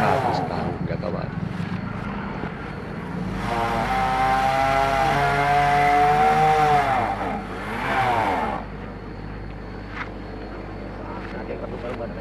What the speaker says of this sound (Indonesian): Potong pohon ketapang dengan menggunakan mesin pemotong, kalau di Kalimantan ini disebut cinso.